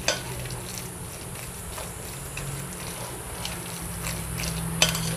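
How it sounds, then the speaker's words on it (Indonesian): Vegetable and chicken dumpling filling mixed with sugar, stirred in a bowl with a spoon, giving a soft continuous scraping and wet mushing, close and steady with a few light clinks, no talking. "Dan ini saya aduk-aduk ya"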